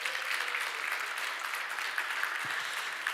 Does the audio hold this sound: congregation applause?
yes